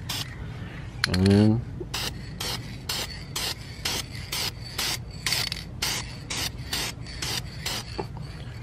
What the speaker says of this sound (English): So I'm gonna start off by spraying this area real quick and just see how it looks